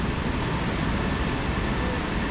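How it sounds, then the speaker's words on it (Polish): Low, steady rumble of the Rozewie passenger train hauled by an EP07 electric locomotive rolling into a station, heard at moderate distance as a continuous broadband roar with no voices. "a za chwilkę wjedzie Gwiazda Wieczoru, czyli pociąg Rozewie skład wjeżdża z niewielkim opóźnieniem"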